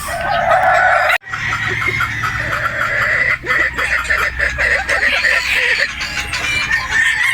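Boston Roundhead gamefowl roosters cluck and crow nonstop at close range, calls overlapping in a busy, loud chorus with a brief break near the start.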